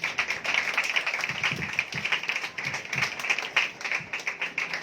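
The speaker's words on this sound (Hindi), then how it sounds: "भाई भट्टी के लिए जोरदार तालियां बजाएं" A church congregation breaks into loud, sustained applause, a dense patter of many hands clapping at once with no voices rising above it.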